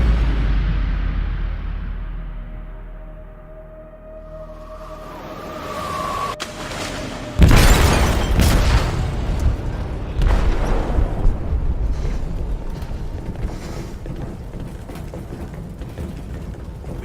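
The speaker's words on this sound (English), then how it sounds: "They detonated an explosive in the hold. The ship is sinking, sir." An explosive going off in a ship's hold in Detroit: Become Human, a sudden heavy boom after a low rumbling lead-in, followed by a sustained roaring, clattering aftermath.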